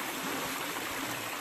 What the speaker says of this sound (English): you could basically only hear water in that shot